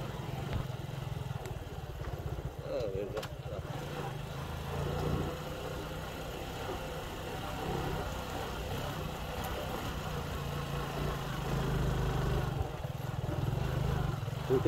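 A motorcycle rides along a slippery, rain-soaked dirt road, its engine droning steadily and close throughout with rough low rumble and no voices.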